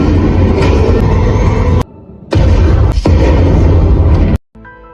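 Loud booming blast from a bomb in the Super Mario Bros movie, a dense roaring burst that cuts out abruptly, returns as a second sustained rumble, then drops to near silence.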